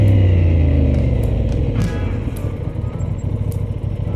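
A Honda motorcycle fitted with E-Clutch rides past with a loud, steady engine rumble that eases slightly partway through, heard close and alone.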